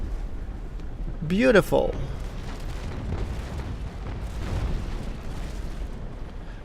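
Cannon fire in the naval battle game Naval Action Legends, with a broadside of 6-pounder long cannons from the ship Cerberus giving a short burst of booms followed by rumbling, under a voice.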